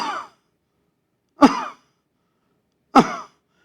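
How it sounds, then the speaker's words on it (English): Three separate short coughs from a young infant, a staccato pattern with clean silence between each, spaced about one and a half seconds apart, close and alone. "So this is a type of called a staccato type of cough"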